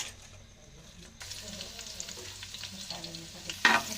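Onion and green chili frying in oil for biryani, a quiet sizzle that grows louder as they hit the pan, with stirring scrapes and a sharp clatter near the end.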